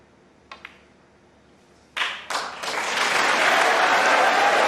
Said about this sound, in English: they were clapping before the blue went